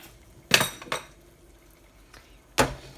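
A metal lid clatters onto a cooking pot of simmering cheesy pasta bake, two quick clanks followed by a second settling clink a moment later, close and distinct against a quiet kitchen.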